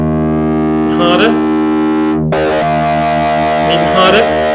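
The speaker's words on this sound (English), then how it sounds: "Add a bit of distortion effect." A synthesizer key is pressed hard with a distortion effect, producing a loud, sustained buzzing tone rich in harmonics that swells and shifts in texture, with a brief abrupt change midway.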